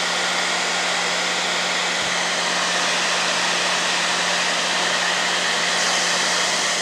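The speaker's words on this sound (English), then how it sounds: "I'm gonna take the hairdryer again." A hairdryer blows steadily at close range, drying paint on a carved wooden Santa bust, its loud constant whoosh and motor hum running unbroken from start to finish.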